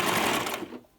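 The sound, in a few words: sewing machine stitching a closure wig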